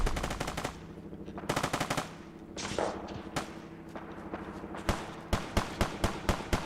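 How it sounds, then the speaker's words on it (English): Fallout 4 combat gunfire aimed at a vertibird: rapid machine-gun bursts followed by spaced single heavy shots, loud and close, with no voices over the shooting. "I knew they were going to shoot down that vertibird."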